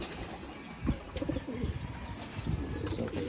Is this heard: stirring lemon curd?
no